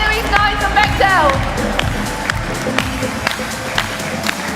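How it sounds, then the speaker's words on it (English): A crowd at the FIRST Lego League UK nationals cheers and claps in a busy hall, with a rough spread of applause and shouts and a voice heard briefly early on. "Let's have a massive cheer!"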